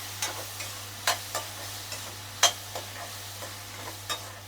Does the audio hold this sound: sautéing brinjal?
yes